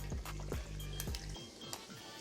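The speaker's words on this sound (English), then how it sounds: "once we pour it in our drink, we'll top it off with the salsa water" Salsa water poured into a cocktail, a close liquid splash and glugging with a few drips and squishy pours, then a lighter trickle as the pour ends.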